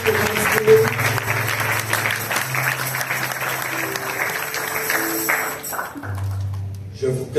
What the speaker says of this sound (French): Est-ce que nous pouvons encore acclamer pour la gloire?